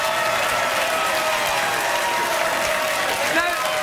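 A studio audience on a late-night talk show breaks into loud, sustained applause, a thick continuous wash of clapping that fills the room from start to finish without letup.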